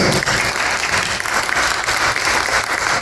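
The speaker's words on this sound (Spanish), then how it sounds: "Pueden sentarse, mis hermanos, y darle un aplauso." A church congregation breaks into dense, sustained applause on a day honouring fathers, a continuous loud wash of many hands clapping that fills the room without a pause.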